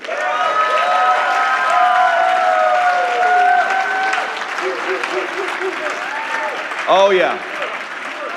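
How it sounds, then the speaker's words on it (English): A live debate audience applauds and cheers a debater, a sustained crowd clapping that fades slightly, with an announcer's voice speaking over it and a brief louder shout near the end. "ladies and gentlemen, warm round of applause for David Wood"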